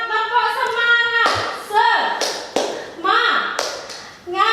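Students in a classroom clap the rhythmic tepuk semangat chant, sharp clap patterns alternating with a teacher's and children's sung or spoken voices, close and loud.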